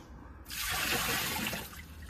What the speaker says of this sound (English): we're going to put more water in the unit